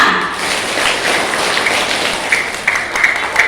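A class of grade 4 and 5 schoolchildren claps together in a room, a dense, loud patter of many hands with a few sharper accents toward the end.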